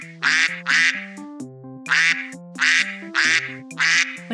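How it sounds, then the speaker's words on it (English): Cartoonish duck quacks used as a silly footstep sound effect, about six loud, evenly paced quack pairs in a walking rhythm, close and alone with no talk. "If you want your footsteps to sound like ducks, you can."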